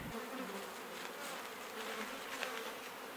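Honey bees buzzing steadily around hive boxes, a dense continuous hum of many insects close by, with no voices.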